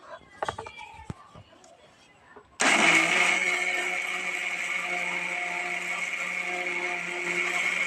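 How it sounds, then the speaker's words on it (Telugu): A kitchen mixer grinder blending ginger and green chilies starts abruptly after some faint handling clicks, then runs as a loud, steady whirring drone that continues to the end. "ఈ పచ్చిమిర్చి అయితే వేసుకొని మిక్సీ పట్టుకుంటానండి"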